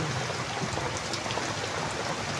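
Heavy afternoon rain pours down in a dense, constant hiss with a low rumble, steady and unbroken throughout, with no voices.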